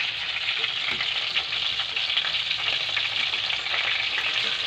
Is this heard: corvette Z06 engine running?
no